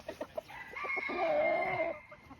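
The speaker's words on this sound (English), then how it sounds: "Checking out these chickens, these hens." Hens, Madigan Claret gamefowl, cluck in a rapid string of short, close notes, followed by a drawn-out crowing call. No voices are heard.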